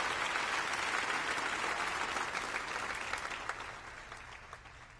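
Snooker crowd applause in the video game Snooker 19, before a Scottish Open second-round match: a steady, dense wash of clapping that holds loud, then thins and fades over the last two seconds.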